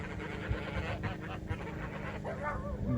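Geese honk repeatedly amid a busy outdoor din, their calls layered and overlapping at mid distance, with faint voices in the background.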